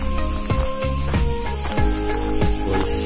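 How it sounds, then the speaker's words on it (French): Cicadas singing outdoors as a steady, loud high-pitched buzz, heard alone throughout without any talk. "cigale, elle chante."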